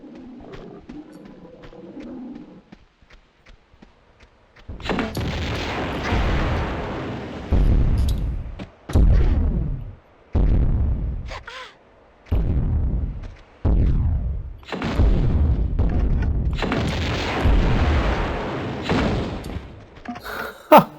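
Grenade launcher blasts in the 1997 PC game Tomb Raider II, a series of loud, booming explosions, each with a rumbling decay, spaced a second or two apart and heard without talk.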